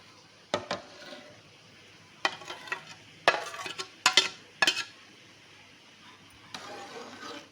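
Jelly pieces are stirred into a bowl of homemade mango custard, giving scattered clinks, knocks and short scrapes in bursts separated by quiet pauses.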